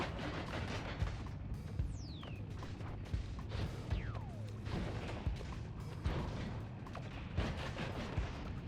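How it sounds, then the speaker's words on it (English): Missiles fired repeatedly in the game Noita, a rapid string of sharp explosive blasts and crashing impacts with a couple of descending whistling streaks, dense and continuous at moderate loudness. "Decided to just shoot missiles at them because it's funny and I remembered I have them"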